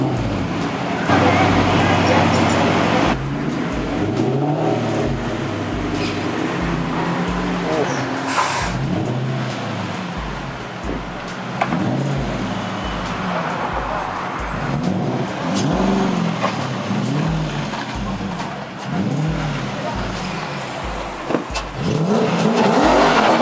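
A Nissan 240SX with a V8 swap revs loudly and repeatedly in a rhythmic series of throttle blips over about twenty seconds, with people talking excitedly over the engine throughout.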